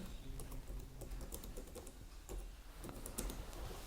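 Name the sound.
typing a school name on a computer keyboard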